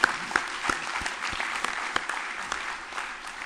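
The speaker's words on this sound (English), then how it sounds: "we can clap for Bob Schieffer" An awards-ceremony audience claps for Bob Schieffer, a brief burst of indoor applause with dense overlapping hand claps that slowly thins out toward the end.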